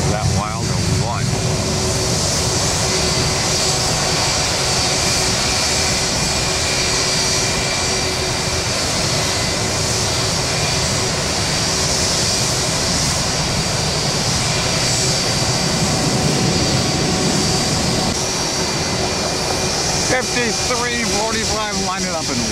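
Jet airliner engines roar continuously at Tampa airport during plane spotting, a loud sustained drone that swells toward the end, with someone talking over it.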